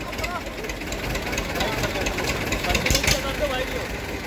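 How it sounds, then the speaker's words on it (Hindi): Escort 335 and Mahindra 475 tractor engines labouring together in a tug-of-war, a continuous rough knocking drone close by, with crowd noise and voices over it. "यो एस्कॉर्ट 335 और महिंद्रा 475 के बीच टू चैन हो रही है भाई"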